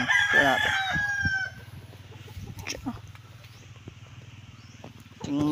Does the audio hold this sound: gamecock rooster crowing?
yes